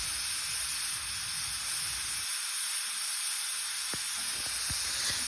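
A pressure cooker cooking dal releases steam in a loud, continuous hiss that holds steady throughout, with a few faint low knocks underneath.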